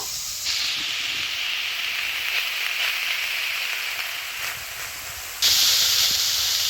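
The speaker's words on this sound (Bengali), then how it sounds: "চিংড়িটা কড়াইতে দিয়ে দিয়েছে, হালকাভাবে ভেজে নেব" Prawns fry lightly in a wok with a continuous close hiss, steady throughout and rising sharply louder near the end.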